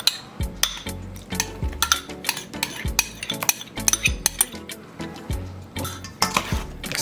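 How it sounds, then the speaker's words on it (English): Spoon stirring salt, soy sauce and green seasoning into a pot of bhagi rice with spinach, giving repeated close clinks and scrapes in an uneven rhythm, loud and steady with no talking. "Mix them all together."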